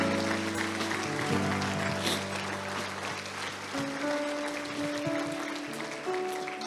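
A church congregation applauding, with steady clapping held under sustained organ or keyboard chords that change pitch partway through.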